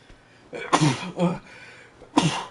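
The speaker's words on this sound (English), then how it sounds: "I have a sneeze." A person breaks into a single sharp sneeze burst, followed by short breathy exclamations and a second burst, close to the microphone over quiet background.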